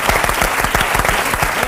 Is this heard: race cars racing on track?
no